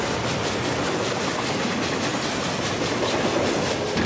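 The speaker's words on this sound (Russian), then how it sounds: "Поезда пошли под Москву на Можайскую линию обороны." Trains carrying military divisions toward Moscow rumble and rattle continuously in a steady, loud wash of wheel noise on rails, with no pauses and no voices.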